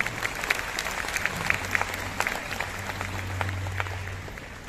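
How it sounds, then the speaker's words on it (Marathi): An audience at a Marathi music concert claps to welcome a singer. The applause is sustained and fairly close, with dense irregular claps that fade slightly at the end. "त्याच्यासाठी जोरदार टाळ्या वाजवायच्या"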